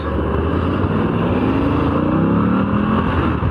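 A 2022 Moto Guzzi V85 TT Centenario motorcycle engine roars steadily and climbs in pitch as it accelerates, loud and close, with a constant rumbling drone throughout.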